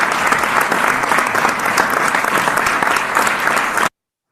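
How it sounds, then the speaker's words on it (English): An audience at a caregiver award ceremony breaks into loud, dense applause that stays full and steady for nearly four seconds, then cuts off abruptly into silence. "A big round of applause for."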